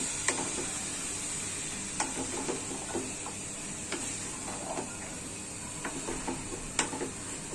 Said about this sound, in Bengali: সবগুলো একসাথে মিশাই কষা,